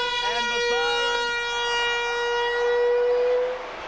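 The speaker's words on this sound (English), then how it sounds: "And the siren." A full-time siren sounds at a rugby league match, a loud, sustained, rich-toned wail that holds almost four seconds before cutting away, with brief crowd and commentary sounds faintly beneath at the start.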